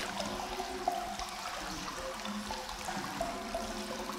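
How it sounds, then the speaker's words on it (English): Hot spring water pours steadily into a Japanese onsen bath at a ryokan, a continuous close rushing and splashing with no talk. "I love that you can see the water coming out from just over there, and you can hear it as well"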